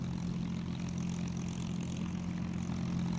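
Propeller fighter aircraft engine in a VR dogfight video game drones steadily at takeoff, a constant low buzzing hum with no talking over it.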